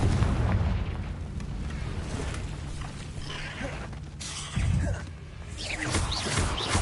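A Confringo fire spell detonates in a Harry Potter video game, giving deep booming blasts and a rumbling roar with a sharper burst near the end, loud and sustained with no voices.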